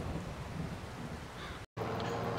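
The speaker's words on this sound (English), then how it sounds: "we'll see how long this rain lasts for." Rain falling in the farming video game Farming Simulator 22, a steady dense hiss of rainfall with a low rumble underneath, broken by a brief cut of silence near the end, no voices.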